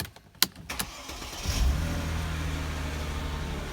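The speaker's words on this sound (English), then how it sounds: "I'll start the car first" A Mercedes W209 car engine starts with a brief starter crank, then catches into a steady, low idle that carries on alone and close by.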